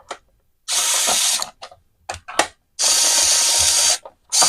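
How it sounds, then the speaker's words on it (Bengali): An electric screwdriver whirs in bursts while unscrewing a blender casing: two long loud buzzing runs and several short clicking spurts with brief silences between. "আমরা ইলেকট্রিক স্ক্রুড্রাইভার দিয়ে এটাকে খুলে নিচ্ছি"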